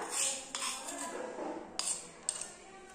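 Cooked rice is served onto a plate, with soft scraping and a few sharp metallic clinks of a spoon against the dish, close and fairly quiet.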